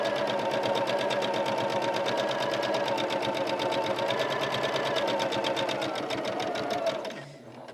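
Sewing machine stitching quilt fabric corners, a loud, steady rapid needle rhythm running close and continuous for about seven seconds before winding down; no voices.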